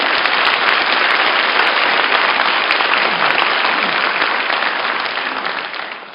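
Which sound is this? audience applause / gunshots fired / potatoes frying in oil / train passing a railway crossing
audience applause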